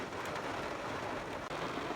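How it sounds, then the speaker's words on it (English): Rain falling on a truck roof, a dense steady patter of drops, close and even for the whole stretch. "It's raining on this side."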